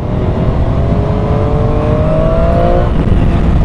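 A Triumph 765 Street Triple R motorcycle accelerates hard in third gear, its engine note climbing steadily and loudly up the rev range, heard close and alone with no talk.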